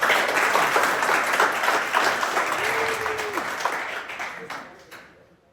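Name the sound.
applause at boxing gym event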